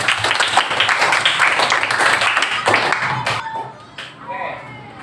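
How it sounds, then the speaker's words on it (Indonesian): A primary school classroom applauds, with rapid, bright clapping from many pupils up close that tapers off after a few seconds, followed by a few quieter taps and brief voices. "Tepuk tangan buat kita semuanya."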